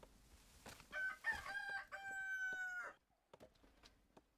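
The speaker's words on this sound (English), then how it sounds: "I can hear a rooster crowing." A rooster in the medieval city-building game Kingdoms and Castles crows once, a clear drawn-out cock-a-doodle-doo, followed by a few soft clucks in a quiet setting.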